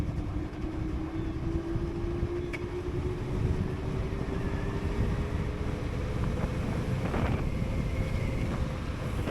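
An EMOVE RoadRunner Pro electric scooter ridden at top speed, its steady motor whine rising slowly in pitch under heavy rushing wind noise at the microphone, with no talking.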